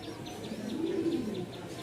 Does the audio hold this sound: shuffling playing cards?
no